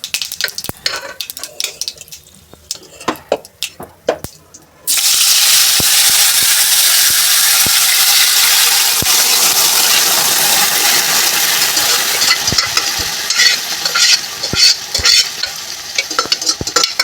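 Mustard seeds and asafoetida tempering in hot oil for green undhiyu give a loud, steady sizzle that bursts in suddenly after quiet clinks and taps, continuing with crackling pops close by.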